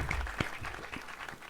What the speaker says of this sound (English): Can we have a round of applause for Alia Bhatt?